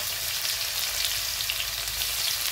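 Garlic and cumin seeds fry with mustard seeds in hot oil in a pan, a close, dense and steady sizzle crackling continuously throughout without a break.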